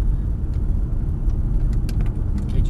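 An Aston Martin on a racetrack in low gears, its engine giving a steady, close, dense rumble with faint clicks and ticks above, continuous for the whole stretch with no voices.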